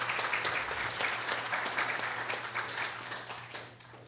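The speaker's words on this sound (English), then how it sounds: "Could we all give a round of applause to the panel?" An audience at a veterinary specialties panel claps for the panelists, a full, steady round of applause that holds for several seconds and then tapers off at the end.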